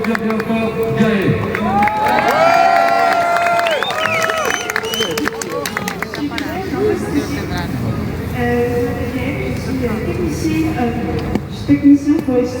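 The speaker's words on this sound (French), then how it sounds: "Si je vous demande d'applaudir bien fort, Gaël." Street protest crowd in Québec applauding and cheering, a dense sustained wash of clapping and shouts with voices and whistles mixed in, loud and close, thinning slightly toward the end.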